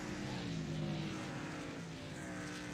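Modified series race cars pass on an evening oval track during the Pope Matthew 125 at Five Flags, a dense continuous engine roar heard from a distance and staying steady throughout.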